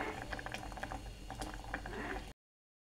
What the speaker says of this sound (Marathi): पालक टाकलाय मी शिजत, थोडंसं मीठ टाकलं शिजवते पालकमध्ये